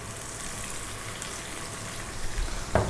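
Garlic, just under a tablespoon, frying in a pan over above-medium heat, giving a steady, even sizzle throughout, with a few louder crackles near the end.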